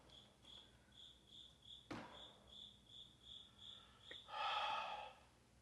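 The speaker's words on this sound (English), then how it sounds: "Is there a cricket in here?" A cricket chirps indoors in a steady rhythmic pulse of high trills, faint and continuous, interrupted by a sharp knock and a later burst of breathy noise.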